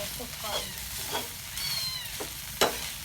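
Sausage fried rice is stir-fried in a pan, a quiet sizzle broken by several scraping spatula strokes, with a short high-pitched squeak near the end.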